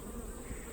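Honey bees buzz inside an open hive fitted with a frame feeder, a steady, close, dense drone that fills the short moment without any voices.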